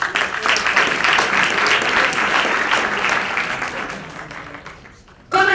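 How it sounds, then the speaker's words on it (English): Applause from an audience at a public lecture in Bloemfontein, a loud sustained round of clapping that gradually fades, then a fresh burst of claps at the very end. "I think that deserves a round of applause"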